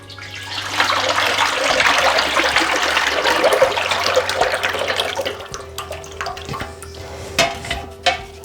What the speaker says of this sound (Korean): 식혀놓은 엿기름을 부어주시고요.